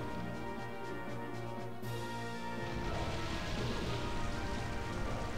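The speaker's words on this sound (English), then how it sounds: "Okay, the rain is up." Rain weather effect in the Pokémon Colosseum video game, a steady hiss of falling rain that swells louder partway through, layered over game music with no talk.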